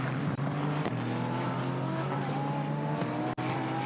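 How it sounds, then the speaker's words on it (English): Group GTH GT race cars and Group GTA Ginettas work through the Wilson hairpin at Snetterton during a 2021 GT Cup race, several engines droning and rising in pitch as they accelerate out, heard from a distance. "Everybody picking their way safely through the Wilson hairpin, all the Group GTH cars with the Group GTA Ginettas amongst them"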